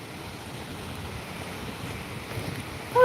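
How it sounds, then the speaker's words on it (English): A small waterfall in English countryside woodland gives a steady, moderately loud rushing wash that barely changes, then a short, high, wavering call cuts in at the very end. "And this is our waterfall."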